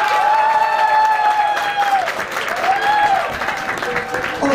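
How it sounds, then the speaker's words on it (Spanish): An audience claps for a contestant at a televised celebrity impersonation semifinal, dense sustained applause with a steady tone sounding through it, loud and close throughout. "Que sea fuerte el aplauso para Lady Gaga."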